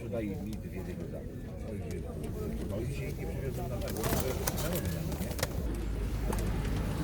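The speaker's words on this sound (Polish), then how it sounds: "Tu mamy ganiane gołąbki" Pigeons coo steadily at an outdoor pigeon market in Radom, Poland, blending with constant crowd chatter and nearby voices, with some brief knocks and rustles toward the end.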